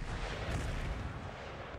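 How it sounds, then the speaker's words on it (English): Distant demi cannons of a Polish-Lithuanian army open fire at long range in an Empire: Total War battle, making a continuous low, rumbling boom that stays fairly faint and unbroken. "The demi cannons are going to open up at long range."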